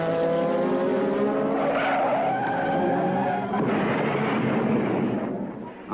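A McLaren Formula 1 car crashes at about 150 mph at the 1981 Italian Grand Prix, with loud, sustained tyre skidding and a roaring rumble that continues for several seconds.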